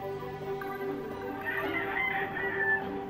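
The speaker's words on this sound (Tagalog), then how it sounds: "Sana hindi nyo marinig tong mga manok na to." Minecraft chickens cluck and squawk in the video game, with a higher crowing note near the end, over a steady tonal background hum.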